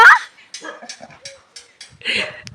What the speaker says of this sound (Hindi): तो ये अंदर से भौंक रही है